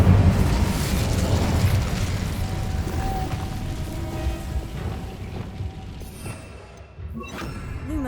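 Incendio fire spell cast in Hogwarts Legacy, a sustained roaring, rumbling burst of flame that stays loud and dense for several seconds, then thins before a final flare.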